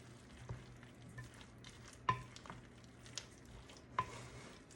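Tuna macaroni salad being stirred and turned in a bowl, with soft scraping and a few sharp clinks of a utensil against the dish, quiet and close with no talk.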